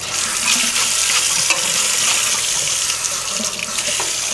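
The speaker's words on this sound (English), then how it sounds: "Again, I'm going to rinse our zester and" A metal kitchen zester rinsed under a running tap, with a steady close hiss of water splashing into a sink and small shifts as the tool moves through the stream.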